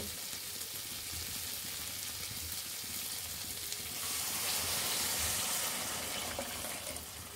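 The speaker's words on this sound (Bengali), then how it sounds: "এখন আমরা জল দিয়ে দিব" Water poured into a pan of bean-seed curry that has been frying, producing a steady hiss and sizzle that swells louder midway, broad and close with no voices.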